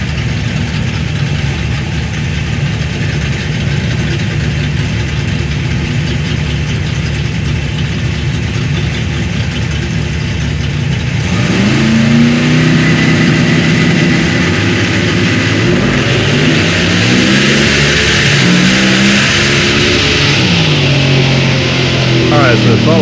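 A Firebird drag car engine with its throttle stuck wide open roars loudly and steadily, its pitch swelling and sweeping upward partway through as the revs climb, a harsh sustained drone with no break.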